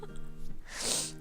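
A single sharp sneeze bursts out near the end, a breathy, hissy blast following a quiet intake of breath.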